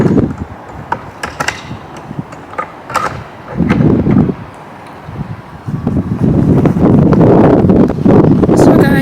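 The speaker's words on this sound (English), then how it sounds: "It's very windy outside," Strong outdoor wind buffets the microphone in loud, rumbling gusts that rise and fall unevenly. Rustling sounds come and go between the blasts.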